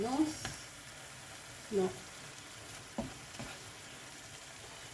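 Beef and onions frying in a pan, heard as a soft, steady sizzle close by, with a few brief stirring scrapes and a short spoken word near the start.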